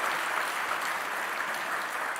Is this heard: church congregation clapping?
yes